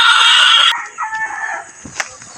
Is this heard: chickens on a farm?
yes